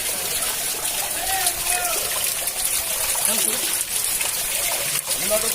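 Floodwater runs through a street in Brazil, a steady rushing and splashing stream with small trickles and sloshes that keeps going for several seconds at an even, fairly close level.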